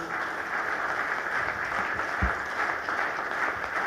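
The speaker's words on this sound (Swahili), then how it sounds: "Let's be upstanding and let's put our hands together. Makofi mengi sana." An audience claps together at the opening of a luxury hotel in Arusha, a dense, steady roar of applause from a large crowd that runs evenly throughout with no pauses.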